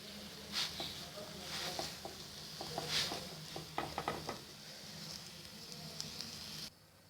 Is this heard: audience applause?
no